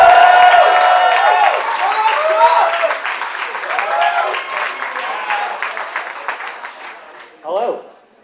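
A student comedy night audience applauds and cheers a comedian's arrival at a stand-up show. The clapping and whooping sound dense and steady, with a host's voice running over them, then fade away toward the end.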